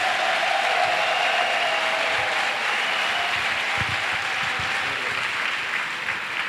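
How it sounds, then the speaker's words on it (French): A church congregation claps together as an offering to Jesus during a missionary send-off service, a dense, steady wash of many hands that stays loud and unbroken throughout, with a faint sustained tone underneath. "Clap offering to Jesus."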